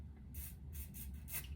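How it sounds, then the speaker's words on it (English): Hair product sprayed onto the tip of a comb while styling a wig unit: several quick, quiet hissing spritzes in an uneven rhythm, close by and faint. "I'm going to actually spray it on this tip of the comb"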